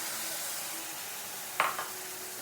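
Masala spices for a dhaba-style stuffed aloo curry sauté in a pan with a soft, steady hiss, joined by a couple of brief scrapes as they are stirred.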